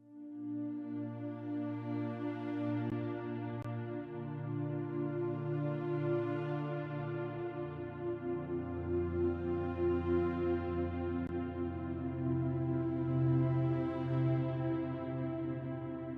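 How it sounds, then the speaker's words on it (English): Sci Fi Strings synth patch from Arturia Analog Lab, playing sustained, slowly shifting string chords with a soft airy swell, alone and at moderate level throughout. "So I went to Arteria's Analog Lab and I grabbed these Sci Fi Strings,"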